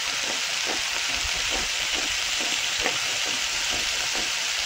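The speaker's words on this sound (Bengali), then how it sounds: "এবার একসাথে ভালো করে কষিয়ে নেব" Fried prawns sautéed in a pan with salt and turmeric for a pangas fish and drumstick curry give a steady, loud sizzle, with soft scraping stir strokes repeating through it and no voices.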